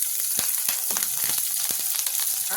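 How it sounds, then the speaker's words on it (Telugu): Green chillies sizzle and crackle in a teaspoon of hot oil in a kadai, a steady bright hiss broken by sharp irregular pops, close and loud with no talking. "1 టీ స్పూన్ ఆయిల్ వేసేసుకొని ఇందులో ఇదిగోండి ఈ పచ్చిమిర్చి వేసేసుకోవాలి."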